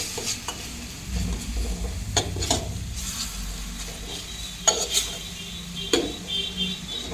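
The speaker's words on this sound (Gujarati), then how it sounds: "મરચાં થોડા સતળાઈ જાય એટલે આપણે ડુંગળીની પેસ્ટ નાખી દઈશું." Onion paste stirred into green chillies frying in a pan, with a constant soft sizzle of oil under repeated scraping strokes of a spoon against the pan.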